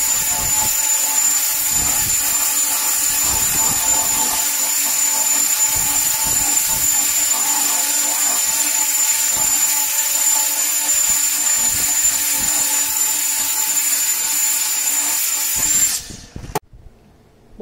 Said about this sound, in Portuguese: eu fiz o lixamento com a 36 na lixadeira angular